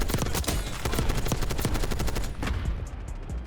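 Sustained automatic fire from an XMG machine gun in Black Ops 6, a dense rapid stream of loud gunshots running nearly unbroken through the whole stretch, with game sound effects mixed in.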